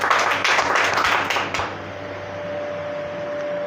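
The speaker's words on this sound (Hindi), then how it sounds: "एक बार आप लोग अपने के लिए ताली दे दीजिए" A seated audience at a product talk gives a short burst of clapping, dense at first and dying away within two seconds. A faint steady hum fills the room afterward.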